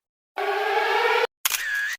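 A lyrebird's mimicry of a camera shutter and motor drive, a sustained mechanical whirring burst followed by a shorter click-and-whir, loud and close, in a southern Australian forest.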